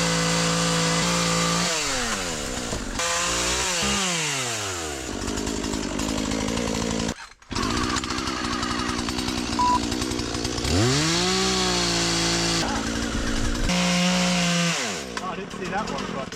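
A petrol Husqvarna chainsaw cuts through vegetation on an off-grid island build site, its engine revving up and down repeatedly at close range, with a brief drop to idle midway.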